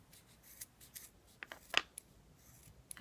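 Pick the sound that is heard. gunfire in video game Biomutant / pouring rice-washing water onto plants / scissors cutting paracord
scissors cutting paracord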